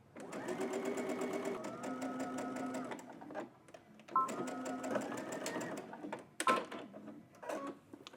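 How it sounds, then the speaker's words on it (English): A serger finishing a sleeve seam allowance runs in several bursts of rapid mechanical whirring, pausing briefly between runs, with small clicks and handling noises in the gaps. "Now you can head to your serger or whatever you're using to finish off your seams"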